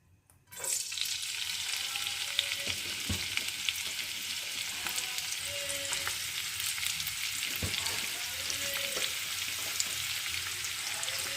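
Chopped onions fry in mustard oil in a pan, a steady close sizzle that starts abruptly and holds evenly throughout, with faint stirring taps scattered through it and no talking.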